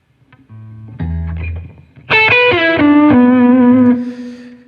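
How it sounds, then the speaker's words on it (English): An electric guitar played with high-gain distortion rings out: a few muted, chunky notes first, then loud sustained chords that hold and slowly decay, with no voice over them. "let me turn up the gain."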